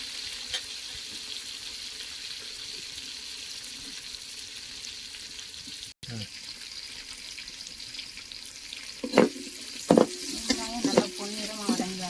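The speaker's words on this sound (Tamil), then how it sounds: "நல்லா பொன்னிறமாக வதங்கி வரணும்." Onions with fennel seeds and curry leaves frying in oil for a fish curry, a continuous close sizzle with occasional louder clatters and scraping of stirring toward the end.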